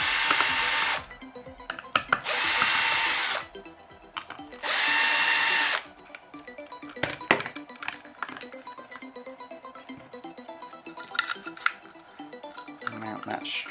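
Power drill backing screws out of a WLtoys 144001 RC car chassis while a carbon fibre chassis kit is being fitted: three loud, steady whirring bursts about a second long each, followed by quieter clicks and handling noises.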